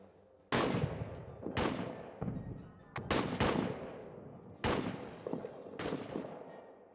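Heavy artillery fire booms on a WWI trench battlefield in a narrative war game, with about six sharp, loud blasts in an irregular rhythm, each trailing off into a rumbling decay.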